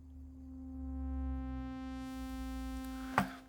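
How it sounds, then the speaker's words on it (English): A steady synthesizer tone from Ableton's Analog instrument, its filter closing until only a pure sine wave remains under a faint low hum, ending with a brief click. "we will be left with just a sine wave at the end"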